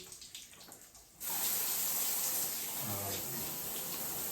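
A handheld sprayer rinses a dog in a bath, starting suddenly after a quieter moment and then spraying as a steady, close rush of water, with a voice briefly heard beneath it.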